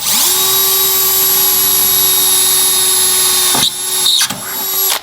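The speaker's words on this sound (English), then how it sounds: "we're going to need to drill a pilot hole first here" A power drill whines steadily at high pitch for several seconds drilling a pilot hole while installing a Curt trailer hitch on a 2020 Toyota Corolla, then cuts out and briefly restarts with short bursts near the end.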